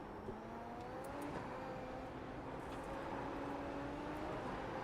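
A race car engine in a sim racing video game holds a high, steady drone with shifting pitch, quiet and continuous, with no talk over it.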